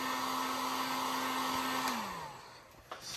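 A heat gun warms the adhesive behind an emblem on a 2021 Ford Bronco, giving a steady close blowing roar with a motor whine that winds down in pitch after about two seconds.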